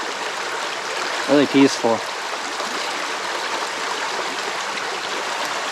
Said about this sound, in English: So relaxing here, just sitting by the creek.